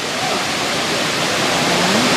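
Thick, continuous roar of the Triberg waterfall in the Black Forest, heard up close as an even, loud rush of falling water with no break and only a faint voice buried underneath.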